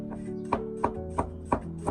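A kitchen knife chops peeled garlic cloves into slices on a cutting board, five or six crisp, evenly spaced taps, close and clear with no talking.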